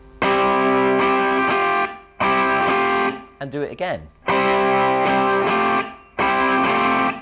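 Distorted electric guitar plays a riff: loud strummed chords ring out in repeated blocks, broken midway by a short spoken line before the chords return.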